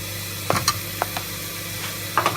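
Spices are stirred into black-eyed peas in a pan with a little oil, giving a few scattered scraping clicks over a steady low sizzling hiss.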